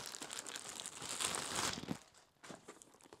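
Paper crinkling and crumpling while a package is unpacked, a busy rustling burst for about two seconds, then a short pause and a lighter crinkle near the end, close and fairly loud with no talking.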